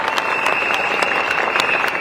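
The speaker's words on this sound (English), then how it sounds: "Give them another big round of applause," Steady, dense applause from a large crowd at a campaign rally fills the space, loud and continuous throughout.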